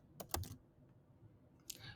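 A computer keyboard typing a search term into a Mac's icon-library app: a quick cluster of soft clicks, then a lone keystroke a moment later, quiet with no talking.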